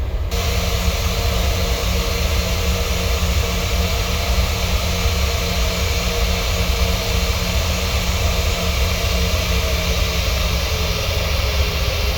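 Ryanair jet airliner engines spooling up for takeoff from runway 05 left at Manchester in Microsoft Flight Simulator, a loud steady roar with a low hum and broadband hiss, continuous and close, with no talk.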